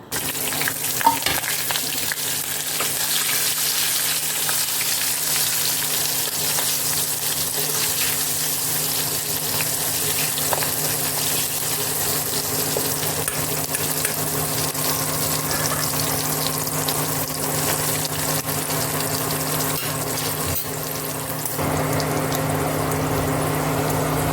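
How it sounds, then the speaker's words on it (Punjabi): Green chillies frying in a pan for pickle make a steady, close sizzle and crackle that runs without pause for the whole stretch, with no voices over it. "ਇੱਥੇ ਮਿਰਚਾਂ ਆਪਣੀਆਂ ਹੋ ਗਈਆਂ ਸੀਗੀਆਂ ਫਰਾਈ"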